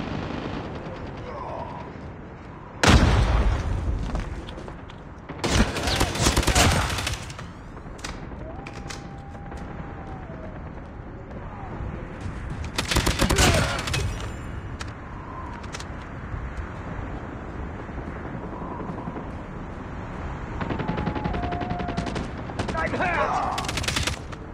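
Assault rifle fitted with two attachments firing in a shooter video game, with explosions: several loud, dense bursts of gunfire and blasts stand out against a steady background of battle noise.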